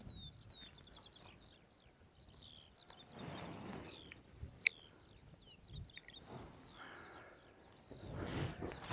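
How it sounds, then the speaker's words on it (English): Birdsong at sunrise on Mam Tor hilltop in the Peak District, a steady series of repeated high chirps and whistles fairly near and clear, with low wind rumble underneath and no talk. "just the sound of the birds in the morning"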